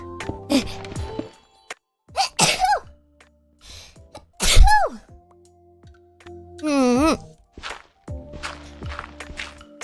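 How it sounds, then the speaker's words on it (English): A sneeze from a streamer, with several separate vocal bursts and pauses before it under close, quiet talk and a faint tonal background. "I gotta sneeze"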